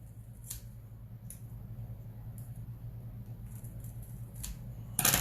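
Scissors trim the width of a Color Street nail strip, giving a few faint, brief snips spaced apart over a steady low hum, with a louder clip at the very end.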